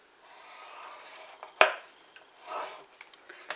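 A scoring tool drawn across cardstock for an Easter cross card: a few short, close scraping strokes, one sharp and prominent, separated by near silence.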